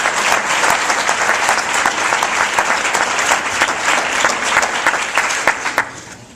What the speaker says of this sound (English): Please join me in a warm round of applause and appreciation for Robert H. Duggar.